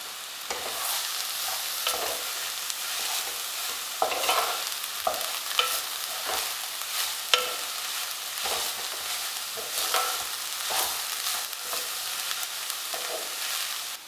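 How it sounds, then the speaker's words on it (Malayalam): Banana stem thoran being stirred as it fries in a pan: a continuous close sizzle broken by repeated scraping strokes of the spoon, with no talking. "ഇനി നമുക്കിത് ഇളക്കിയെടുക്കാം."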